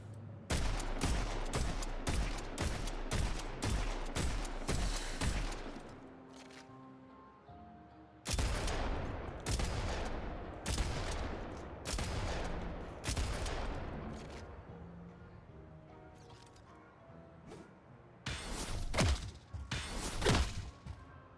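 Rapid bursts of gunfire from the hero Shiv's gun in the video game Deadlock, loud close volleys of shots in several runs separated by short pauses, with no talk over them.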